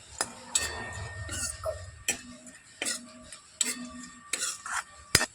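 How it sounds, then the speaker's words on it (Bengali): Cashews and raisins frying in a pan, stirred with a metal spoon that scrapes and clinks against the pan in sharp, evenly spaced strokes over a soft sizzle, with no speech. "নাড়াচাড়া করে একটু হালকা লালচে করে ভেজে নেব।"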